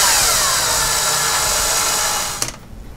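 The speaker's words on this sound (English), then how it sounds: "for this next one, I will pre-tap the holes just a little bit" A power tool whirs steadily while pre-tapping screw holes in a Tamiya TA06 Pro RC car chassis, a loud continuous motor drone that cuts off sharply near the end.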